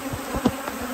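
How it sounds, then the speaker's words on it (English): Agitated honey bees buzz loudly around an opened beehive during a varroa mite check, a close, continuous drone with individual bees swelling past. "We got these bees fired up, didn't we?"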